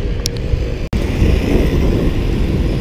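Loud, steady roar of street traffic with motorcycles and wind in the town of Tozeur, a dense broadband rumble with a brief sharp dropout near the start and no clear voices.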